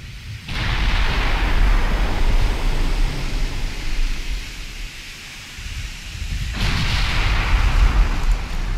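Naval gunfire in the Ultimate Admiral Dreadnoughts warship game, late pre-dreadnought battleships trading shots: two heavy, sustained roaring barrages, one opening the span and another near the end, with a lower rumbling lull between them, no talk.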